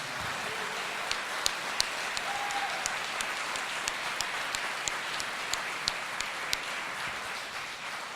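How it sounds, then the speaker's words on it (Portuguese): A church congregation at a pastors' retreat in Fortaleza applauds, a soft sustained patter of many hands heard from a distance, with a few sharper individual claps standing out above the wash. "eu gostaria que nós dessemos uma salva de palmas ao Senhor Jesus por todos esses líderes que estão aqui."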